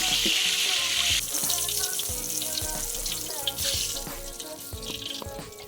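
Pointed gourd (potol) pieces fry in hot oil, giving a dense, steady sizzle with faint watery clatter, close and fairly loud throughout with no voices.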